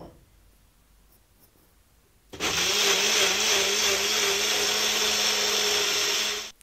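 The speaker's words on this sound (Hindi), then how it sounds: "एक ग्राइंडर जार में इस पूरे मिक्स को डालकर इसका अच्छे से पेस्ट बना लेंगे" A mixer grinder jar whirs loud and steady for about four seconds as it grinds a spiced tomato mixture into a paste, then cuts off abruptly after a quiet start.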